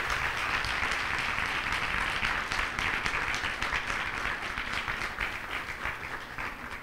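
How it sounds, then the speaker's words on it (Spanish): Sustained audience applause at an award ceremony for a museology prize, a broad wash of many people clapping that stays steady and fades slightly toward the end. "les pediría un aplauso para los chicos de Bikini Wax"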